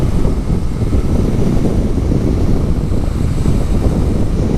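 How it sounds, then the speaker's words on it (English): Steady, loud wind buffeting a microphone outdoors beside a Honda Rebel 500 motorcycle, a continuous low rumbling roar filling the whole clip with no speech. "Maybe block out some of the wind."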